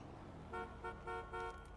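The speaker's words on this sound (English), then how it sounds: "Who's honking?" In the video game Grand Theft Auto, a car horn honks four short times in an uneven rhythm, faint and somewhat distant.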